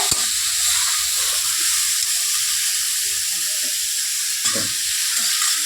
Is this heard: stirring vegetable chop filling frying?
yes